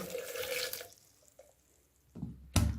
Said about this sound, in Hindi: अब इसके अंदर मैं 1 गिलास पानी का ऐड करती हूँ